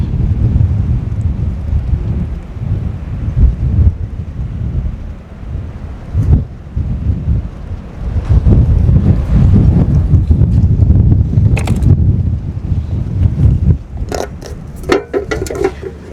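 Strong wind buffets the microphone in heavy low rumbling gusts throughout, with some scraping and knocking sounds near the end.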